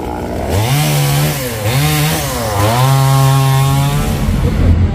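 A chainsaw cutting branches of a large Bodhi tree runs loud and close, its engine pitch rising and dipping as it revs through cuts, steady for several seconds with no talking.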